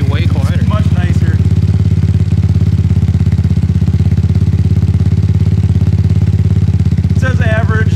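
A motorcycle engine with a muffler fitted runs steadily at close range, a constant low rumbling idle throughout, with brief bits of talk near the start and end.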